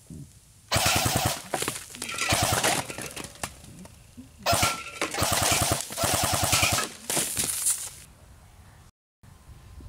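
A Barra 400E full-auto AEG BB rifle fires long rapid bursts at soda cans about 20 yards away, loud and close, with the motor's whir and clatter under each string of shots and short pauses between bursts.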